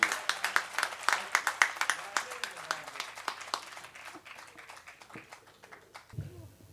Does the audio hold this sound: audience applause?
yes